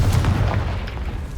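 A Confringo blasting spell explodes in the Hogwarts Legacy video game as a single booming blast with a rumbling tail that fades over about a second and a half.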